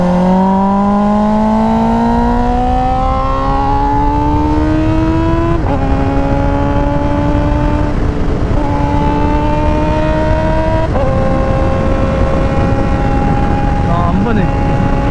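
A Kawasaki ZX-4RR fitted with an IXIL exhaust screams up through the revs on a racetrack, its pitch climbing steadily between several quick upshifts, loud and close over heavy wind rush.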